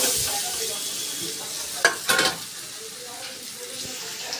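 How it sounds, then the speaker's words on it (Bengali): Paneer cubes fry in hot oil in a wok for dry chilli paneer, with a steady moderate sizzle and a couple of brief louder spurts of spattering. "তো এই যে দেখছেন পনিরগুলো ভাজা হচ্ছে।"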